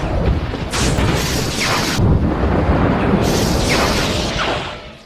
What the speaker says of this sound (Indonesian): Tiba-tiba saja ada petir yang menyambar payung